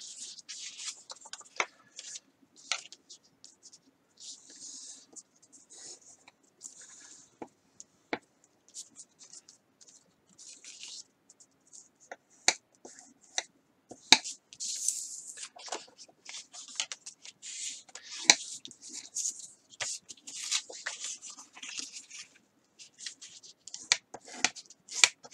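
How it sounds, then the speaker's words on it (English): Paper folded over and its edges scored for a concertina art journal, heard as close, sharp scraping strokes and crisp rustles in irregular bursts, with quiet gaps between them. "All I'm going to do now is just folding these over and just scoring the edges."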